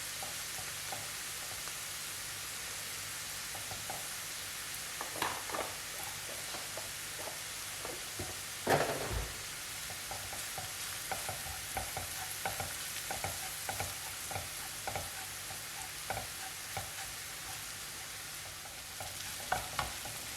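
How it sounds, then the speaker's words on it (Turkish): Flour toasting in a pan for puffy ketchup-and-flour fried dough, giving a steady dry sizzle with soft scraping stir strokes throughout and one louder clatter midway; no voices. "Unun kokusu çıkana kadar kavuruyorum."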